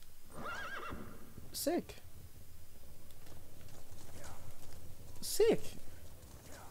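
Whinnying horse from the video game Metal Gear Solid, two distinct neighs spaced a few seconds apart with light hoof clip-clop, over a low game ambience while a person speaks briefly.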